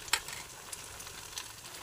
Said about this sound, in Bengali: বেসন পনির আমার ভাজা হয়ে গেছে